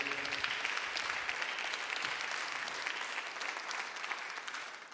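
A church congregation applauds during a worship service, a steady wash of clapping from a crowd that stays even and fairly distant for several seconds before easing off slightly.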